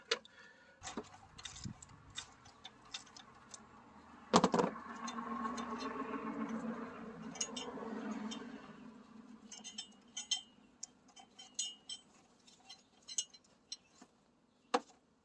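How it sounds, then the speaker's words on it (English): Ratcheting and metallic clinks of a socket wrench with a deep socket and two 6-inch extensions working a 13 mm battery bracket bolt on a Kia Sedona, a sharp clank, then a few seconds of steady ratcheting, followed by scattered light ticks. "to release the bracket of the battery, you got this 13 millimeter bolt. I got the deep socket with the two 6-inch extension."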